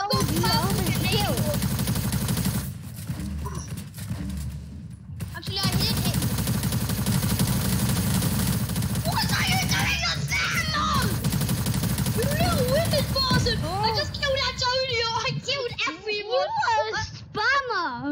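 SMG gunfire rattles in the Fortnite Creative video game, with bursts of rapid shots and game effects running throughout, while children talk and shout excitedly over the action.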